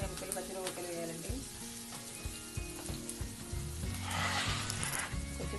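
Onion pieces and green chillies frying in hot oil for a spicy mango chicken curry, a steady close sizzle with occasional stirring scrapes that swells louder toward the end.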